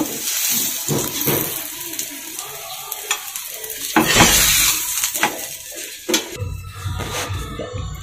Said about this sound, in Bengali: এইভাবে করে সব পরোটাগুলো আমি ভেজে নিব।